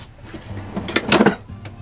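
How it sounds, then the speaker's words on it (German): Drawers in the DIY kitchen of a VW Crafter L2H2 camper van slide open and shut, with soft rolling and bumping sounds that end in a light clunk. Close by and moderate in volume, with no talk over them. "Schubladen gehen perfekt auf und wieder zu."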